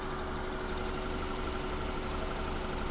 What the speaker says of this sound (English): Here's the exhaust sound.